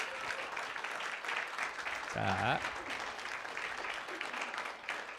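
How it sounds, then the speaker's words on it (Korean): Sustained applause from a church congregation at a Korean Baptist Christmas Sunday service in Boise, a dense steady patter of many hands that runs the whole time, with someone briefly speaking over it midway. "늦게 나오니까 박수가 더 길어진다"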